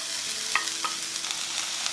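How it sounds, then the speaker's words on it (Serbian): Onions hissing and sizzling in hot melted pork lard in a frying pan, a steady close crackle with a few small scraping stirs and pops, no talk. "Na zagrejanu mast dodajemo ostatak luka"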